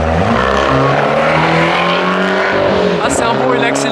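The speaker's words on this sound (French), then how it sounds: "Petite abarth qui passe là si tu veux." A small Abarth car passes nearby and accelerates, its engine a loud, continuous roar that rises and shifts, with people talking over it.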